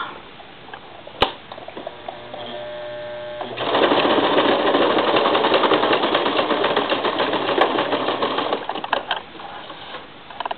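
A sewing machine stitches a zigzag seam through canvas, a short burst of motor hum early on, then a loud, steady run of rapid stitching from about the middle of the clip to the end, nearby with no talking.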